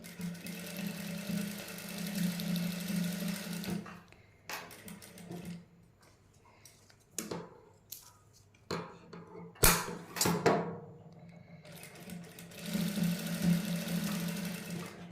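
A sewing machine stitches net lace onto a sleeve in bursts of rapid mechanical whirring, stopping and starting in short runs separated by quiet pauses and small handling clicks.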